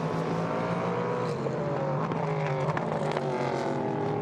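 A prototype race car at the Nürburgring roars past on track, a loud sustained engine note shifting in pitch as it goes by.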